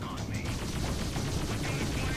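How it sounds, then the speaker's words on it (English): A spaceship explosion in the space combat game Freelancer rumbles as dense, sustained crackling blasts with a continuous rolling roar, loud and close throughout with no pause. "Nice explosion."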